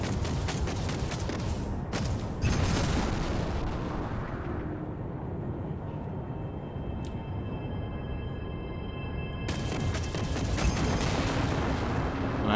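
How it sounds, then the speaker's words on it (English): Plasma cannon fire from a mecha spacecraft in the space combat game Strike Suit Zero, a dense rumbling barrage of blasts with a quieter lull midway before the firing surges back loud. "Bring your reticule in line with the target and fire your cannons."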